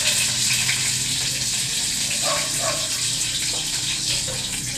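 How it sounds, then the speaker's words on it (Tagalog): Hot cooking oil spattering steadily in a frying pan, a dense, continuous crackling hiss close by, loud and unbroken for the whole stretch. "Tumatalsik yung mantika."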